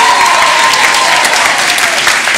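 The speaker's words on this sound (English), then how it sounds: "One more round of applause for the cast." An audience claps for the cast of a spring school production of Joseph and the Amazing Technicolor Dreamcoat, giving dense, steady applause throughout.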